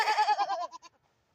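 A goat bleats on a homestead, a single wavering, close call lasting just under a second that trails off into silence.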